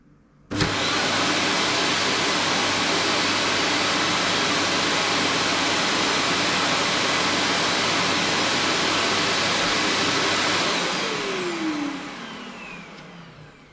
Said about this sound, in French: Ça va vous permettre donc de vider le bol de l'aspirateur directement dans le sac de la station.